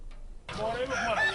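Broiler chickens at a poultry market in Wolofobougou, heard as close, dense clucking and squawking from several birds that starts abruptly and continues steadily for about a second.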